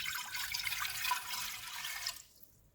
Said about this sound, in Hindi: कुकर में 2 कप पानी डालेंगे।